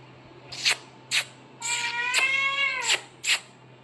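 A cat meows several times at close range, with short calls and one longer drawn-out meow, separated by brief pauses and heard alone over a faint steady hum.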